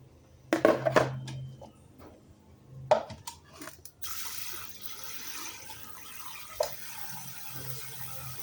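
Tap water runs in bursts as rice is washed by hand in a sink to separate out sand, with splashing and clinks, then a steady, softer stream of running water continues close by.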